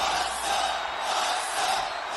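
A large wrestling crowd chants loudly in unison, a dense, steady roar of many voices filling the space without pause.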